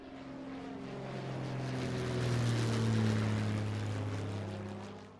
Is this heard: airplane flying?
yes